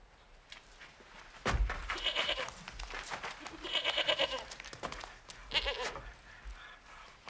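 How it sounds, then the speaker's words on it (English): A goat bleats three times in quavering calls spread across a quiet film scene, each call fairly faint against low background noise. "A goat."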